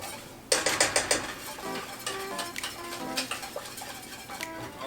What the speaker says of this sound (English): Make sure you whisk this in too, because the flour is what, if you don't whisk it in